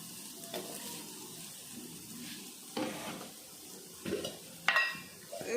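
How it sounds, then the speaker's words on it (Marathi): Onion fries quietly in a pan for a Konkani mackerel dish, a soft low sizzle punctuated by a few scrapes and clinks of a utensil against the pan, rather faint overall. "आता कांदा भाजून घेते"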